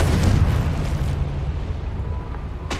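A Confringo spell explodes in the video game Hogwarts Legacy, a loud booming blast with a rumbling tail that fades over about two seconds, ending in a brief sharp crackle, no speech.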